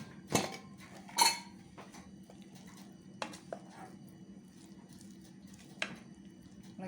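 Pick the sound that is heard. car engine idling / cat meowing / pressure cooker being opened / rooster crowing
pressure cooker being opened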